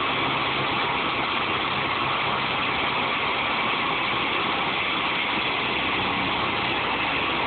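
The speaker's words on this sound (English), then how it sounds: "Now this has a Deutz diesel." A Deutz diesel engine runs steadily on a 12-inch brush chipper, a constant, dense mechanical drone with no change in pitch or rhythm and no voices over it.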